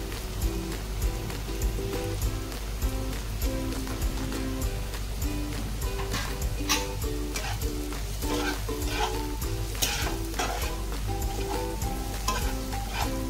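Tomato with red chili powder, homemade masala, coriander powder and turmeric fries in a pan for chapati chivda. A constant close sizzle runs under repeated spatula scrapes and taps, and no one speaks.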